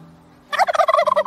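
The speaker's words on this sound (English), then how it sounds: "The famous turkey gobble noise is only made by the males of the species." A male wild turkey gobbles once, a loud, close, rapid rattling burst of about a second that starts abruptly after a quiet lead-in.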